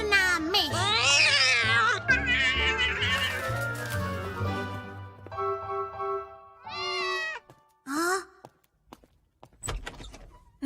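A cat meows several times in short, rising cries amid other sounds and music, with a door sliding and a voice briefly heard.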